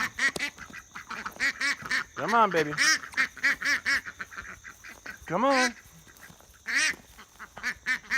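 A very vocal, pushy duck quacks repeatedly and insistently, close and loud, while a person coaxes it in between calls, offering duck chow out at a pasture.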